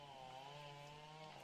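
Chainsaw trimming a hedge maze, a steady buzzing drone held throughout, moderately close and unbroken.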